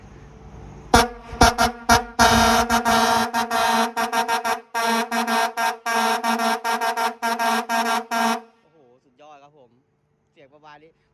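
A six-trumpet air horn, fitted with only six of its eight trumpets, blasts in a rapid series of loud, choppy bursts for about eight seconds before cutting off, followed by brief faint voices.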